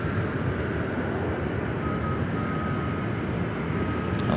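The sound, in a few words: airplane flight heading to Dallas Fort Worth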